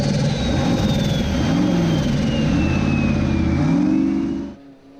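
A formula offroad car's engine roars at full throttle on a final hill climb, loud and sustained with rising and falling revs, then cuts off abruptly near the end to a faint distant idle.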